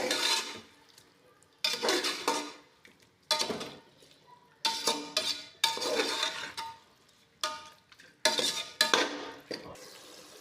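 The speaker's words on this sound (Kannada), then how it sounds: "ಒಂದು ಸತಿ ಕೆದಕಿ ಇದನ್ನು" A spoon scrapes and stirs tomato masala in a cooking pot in repeated bursts, each about a second long, with short quiet gaps between them and a faint sizzle underneath.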